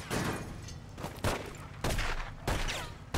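Gunfire in The Godfather video game comes as loud, close bursts, four or five heavy shots with brief gaps of echoing tail between them.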